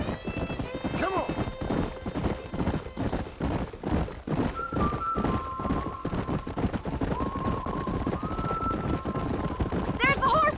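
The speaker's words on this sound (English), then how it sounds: "There's the horses!" Horses gallop in a steady rapid clip-clop of hooves in the Red Dead Redemption video game, with a few whinnies and neighs rising over the running, plus brief voices and game sounds toward the end.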